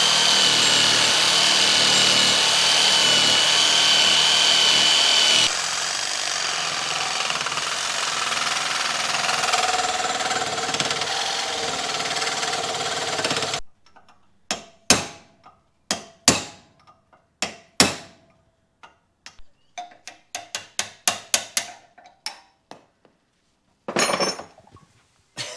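A jigsaw cuts through a car suspension bush on a budget race car build, loud and continuous, then sharp irregular hammer blows knock the bush out, with short pauses between strikes.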